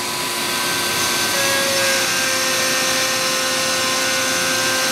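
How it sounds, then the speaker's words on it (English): CNC router spindle cutting MDF parts with a small bit on a Joes Hybrid machine, taking about an eighth-inch pass. A loud, steady high-pitched whine with a constant cutting roar, heard alone and unbroken. "Spindle is on and it's going to start cutting."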